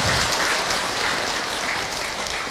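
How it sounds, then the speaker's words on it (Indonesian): An audience applauds for a woman who asked a question, a soft, even wash of clapping that stays fairly steady and tapers slightly toward the end. "Tepuk tangan dong buat ibu yang bertanya."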